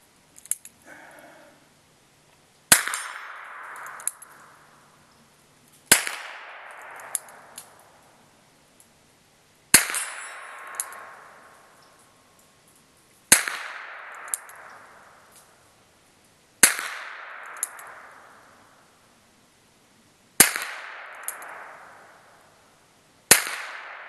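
Taurus 617 revolver firing .38 Short Colt black powder rounds, seven sharp loud shots spaced a few seconds apart outdoors, each with a long decaying echo.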